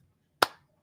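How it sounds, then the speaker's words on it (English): One sharp hand clap, close and clear, stands alone in near silence, with a short ringing decay after it. "got to give you guys a slow clap"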